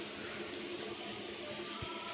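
Peeled raw plantains for Onam upperi are washed in water, a steady close wash of running and sloshing water that stays even for the whole short stretch.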